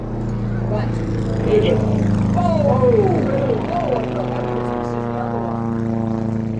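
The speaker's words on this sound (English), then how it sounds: "Look how big that aeroplane is" A propeller aeroplane drones loudly past at an air festival, its engine pitch sweeping as it goes by, with voices talking and cheering underneath.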